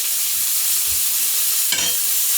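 Butter melting in a pan while steak fingers are being made gives a steady, loud sizzle and hiss throughout, with one brief louder crackle near the end and no talking.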